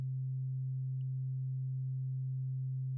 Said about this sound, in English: Some resonance. Oh yeah, it's a bandpass filter, so it's cool.